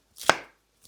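A single sharp knife chop through vegetables on a cutting board, diced into bite-sized pieces; one crisp close impact with a short tail, otherwise quiet.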